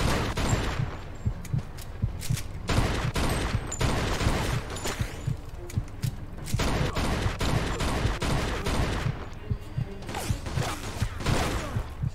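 Repeated gunfire in the video game Mafia II: sharp shots and short rapid bursts crackle close and loud throughout, with brief lulls between volleys.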